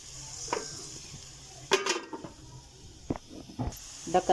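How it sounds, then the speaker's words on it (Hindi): A lid goes onto a pan of cooking onions and tomatoes with a few light metallic clinks and knocks over a steady sizzle and hiss. The contact sounds are brief and scattered. "अब हम इसके ऊपर रख देते हैं ढकना"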